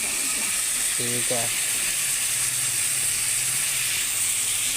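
Semolina and potatoes roast in a pan with a steady, even sizzle and hiss throughout, while a voice speaks briefly over it.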